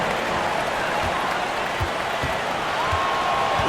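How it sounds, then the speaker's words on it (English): An arena crowd at a New York Knicks versus Detroit Pistons basketball game cheers and applauds during a timeout. A dense, steady roar of clapping and voices fills the clip at full volume, with a faint announcer voice inside the crowd noise. "Another big cheer for your Knicks City Kings."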